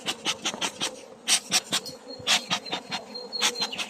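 Honeybees of a medium-strength colony, being settled with a new queen, buzz close by in loud, pulsing swells as individual bees pass near, with a continuous hum beneath.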